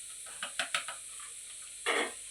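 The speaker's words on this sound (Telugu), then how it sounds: "యాలకుల పొడి, కవ్వ పొడి వేసేసుకుని తిప్పుకుందాం" A spoon stirring carrot halwa in a pan after cardamom powder and khoa are added, giving a few soft scraping strokes and a brief hissing burst over a quiet sizzle, close and fairly faint.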